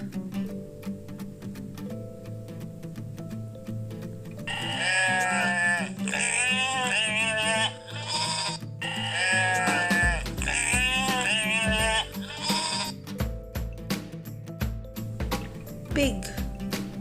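A farm sheep bleats in a few clear, wavering calls in two bursts, loud and near, over a soft steady background tone.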